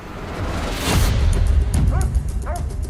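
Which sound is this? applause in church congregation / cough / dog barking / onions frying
dog barking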